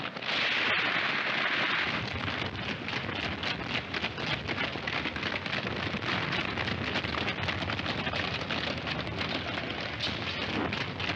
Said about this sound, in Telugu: ఆ తుపాకీ శబ్దాలు విన్నారా?